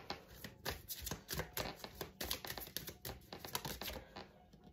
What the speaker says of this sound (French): Je tire déjà la petite carte que je vais mettre là-bas de prière pour la fin du tirage.